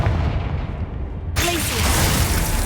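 Confringo fire-blast spell in Hogwarts Legacy erupts midway as a sudden loud explosive burst with a crackling, booming tail, following a quieter stretch of game ambience.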